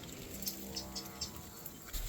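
Cattle mooing in the background, faint and somewhat distant, over steady outdoor noise, with no speech.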